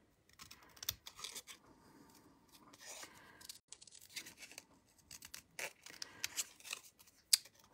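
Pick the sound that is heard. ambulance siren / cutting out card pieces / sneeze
cutting out card pieces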